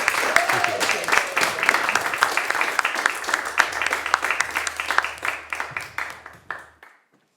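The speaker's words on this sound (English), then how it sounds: "Can we have a round of applause for Louise, please?" An audience gives a round of applause for Louise at a pain education event, with steady clapping from many hands at moderate distance that thins and fades out toward the end.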